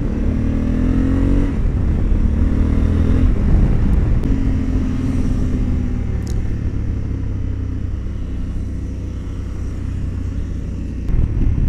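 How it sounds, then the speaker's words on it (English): A 2021 Honda Africa Twin motorcycle rides on a race track in urban mode, its steady engine rumble rising in pitch through revving stretches and dropping between them, close and continuous. "Let's see how the bike handles and how it delivers the power."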